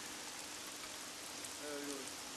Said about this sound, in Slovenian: Dežuje.